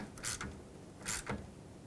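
Quiet ratcheting clicks in two short bursts as a bolt is snugged down on the A/C condenser of a 1997-2001 Lexus ES300, with a pause between them.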